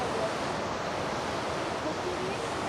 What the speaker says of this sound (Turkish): Şu an bir şelalenin yanından geçiyoruz.